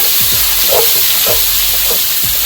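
Sausage and yellow and red peppers sauté over high heat in a pan, a steady close sizzle with soft repeated stirring scrapes and no talking.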